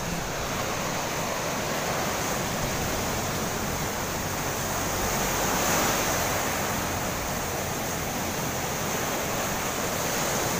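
Ocean waves roll in one after another at a skimboarding beach in Leyte, giving a steady loud roar of surf mixed with wind noise and no voices.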